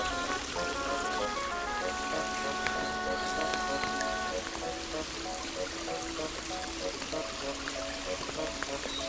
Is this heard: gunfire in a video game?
no